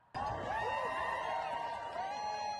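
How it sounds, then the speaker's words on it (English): Large crowd of demonstrators chanting slogans at a protest outside the Idaho state capitol, a dense continuous roar of many voices with rising whoops, steady and loud throughout. "behind me you can see demonstrators carrying signs, chanting slogans, and calling for action on a whole range of issues"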